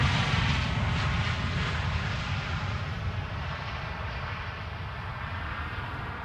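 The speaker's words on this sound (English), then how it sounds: "you're hearing the sound of a KLM" A KLM Boeing 737 jet airliner at Schiphol, its steady engine roar loudest at first and easing slightly as it goes, heard alone without voices.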